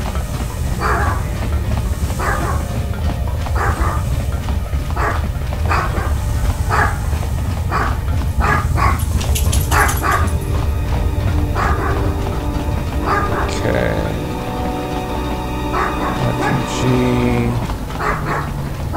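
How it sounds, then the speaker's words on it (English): Dogs bark in Knights of the Old Republic 2, a steady run of regular barks repeating over a constant rumbling game background, moderately loud throughout. "Dogs are excited about something."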